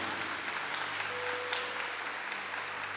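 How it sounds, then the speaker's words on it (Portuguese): An audience applauding at a church event, dense steady clapping sustained throughout, slightly distant and filling the hall. "Vamos aplaudir a Deus pela Canção Nova?"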